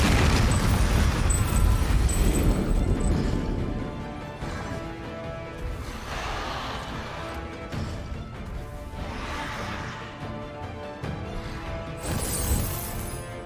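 A bomb detonates in the video game Century: Age of Ashes, a loud crashing blast with heavy low rumble that decays into a lingering roar, followed by softer secondary booms and a final burst near the end.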